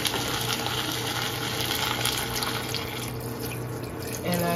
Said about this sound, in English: And I just fill it to the top, like almost to the top.